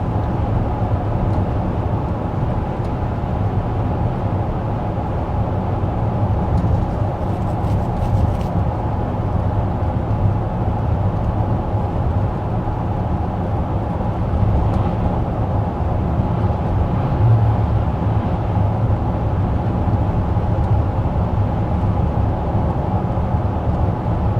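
Inside a 2024 Chevy Traverse RS cruising at 55 mph, a steady low road and engine rumble with faint wind hiss fills the cabin, constant and even throughout with no talking.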